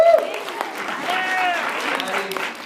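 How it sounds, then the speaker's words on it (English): A classroom of students gives a short round of applause, clapping that rises and fades over a couple of seconds, with whoops and cheering voices mixed in. "Let's give Patty a round of applause"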